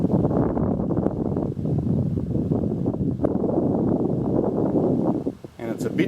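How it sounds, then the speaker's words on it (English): Steady wind buffeting the microphone at Koolewong Lookout above Woy Woy Bay, Central Coast, a constant low rumble with a brief dip near the end. "And it's a bit windy as well."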